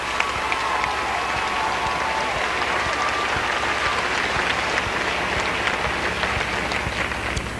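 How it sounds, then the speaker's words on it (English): Sustained, loud applause from a pageant audience, a dense even roar of many hands clapping for the whole stretch without letup. "please applaud loud enough for them to hear you"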